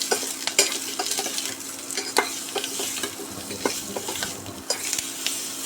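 Strips of raw mango and curry leaves sizzling in hot oil in a pan for a sweet-sour mango dal, with a steady close fry and repeated scraping of a spatula against the metal.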